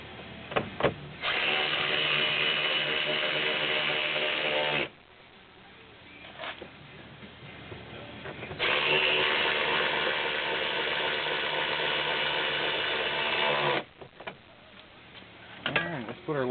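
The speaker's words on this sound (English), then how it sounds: "Now we'll run those 2 7mm bolts back in," A hand ratchet drives two 7mm bolts back into a Chevy Silverado or GMC Sierra truck door during window regulator replacement, with long loud runs of rapid clicking separated by a quieter pause and a few scattered taps.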